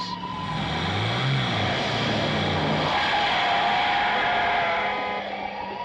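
A car skids hard around a corner in an old-time radio drama chase, a loud sustained tire screech over roaring engine noise that runs nearly six seconds with no voices.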